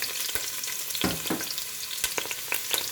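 Chopped onion sizzles and crackles in hot oil in a pan, a steady frying hiss with sharper pops and stirring scrapes, alone without talk.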